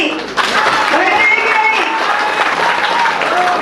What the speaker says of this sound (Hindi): एक बार नवीन पट्टनायक लगी जोर से ताली।